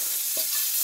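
A frying pan greased with lard gives a short, close sizzle and scrape against a steady hiss of background noise, with no talking.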